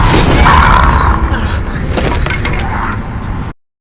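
Gimli's axe strikes the One Ring in a Fellowship of the Ring film scene, a loud metallic crash and shattering clang over a dense, booming orchestral and crowd backdrop, cut off abruptly near the end.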